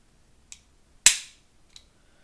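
A GSG 1911 .22LR pistol is dry fired: one sharp metallic snap of the hammer falling, close and clear, with faint small clicks of the action just before and after.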